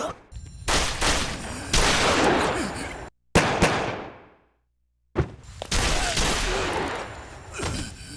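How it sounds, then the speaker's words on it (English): Gunfire from the Yakuza 2 remake video game: loud, dense bursts of shots crackle in two long volleys split by a short gap of near silence, each volley sustained and roaring with overlapping reports. "Gunshot sound effects are by far the worst offender of this in the jump from the original to the remake."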